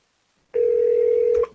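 A telephone dial tone starts abruptly once the handset is lifted off the hook. It holds steady and loud for about a second, then cuts off, with no talking over it.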